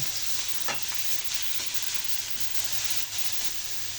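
Bitter gourd (ampalaya) sizzles in a hot frying pan, a steady, close hiss of frying with faint stirring scrapes, and no voices.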